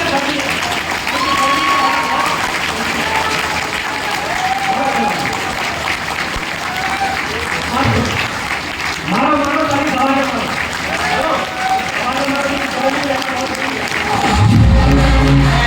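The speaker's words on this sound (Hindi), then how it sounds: "इस हॉल में जितने भी लोग बैठे हैं, तालियां मारो और तालियां मारो" Audience in a hall clapping at a training session in Gurgaon, Haryana, a steady loud wash of applause with someone talking loudly over it throughout.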